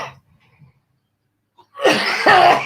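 A single sharp sneeze bursts out near the end after near silence, loud and close, followed by a short breathy tail.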